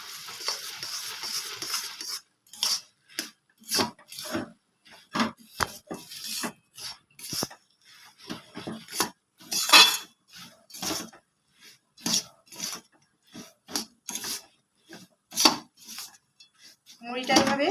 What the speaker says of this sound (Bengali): মুড়িটা এভাবে গুড়ের মধ্যে কিছুক্ষণ নাড়বো